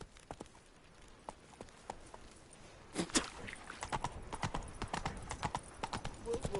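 Horse hooves clip-clop at a steady gallop in The Witcher 3, the rhythmic beats growing louder and denser partway through and running alone without talk.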